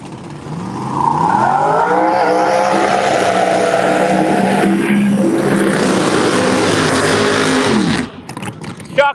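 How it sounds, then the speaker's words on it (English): Turbocharged Pro Mod drag racing car with an Extreme Racing Engines powered turbo engine, a loud close roar accelerating down the strip with rising engine tones for about eight seconds before cutting off. "Here he comes, an Extreme Racing Engines powered precision turbo machine, Todd Moyer."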